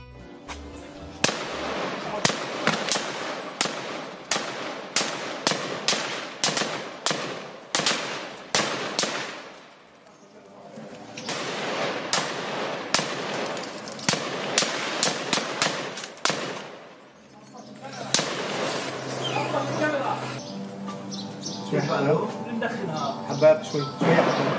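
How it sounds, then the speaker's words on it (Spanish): An Israeli army tank firing at journalists' cameras in Jenin: rapid volleys of sharp, loud cracks in quick succession, broken by short pauses, then a rougher, denser stretch of noise, with voices faintly in the background. "Ahí tienen un tanque del ejército de Israel disparando contra las cámaras de los periodistas"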